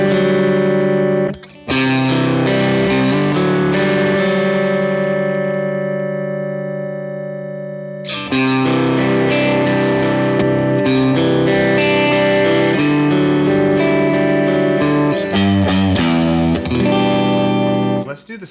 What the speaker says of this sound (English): let's turn on just like a basic plate reverb and a compressor